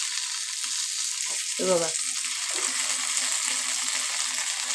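Bangda mackerel fish fries in a pan with a constant bright, crackling sizzle throughout, while someone speaks briefly over it near the middle.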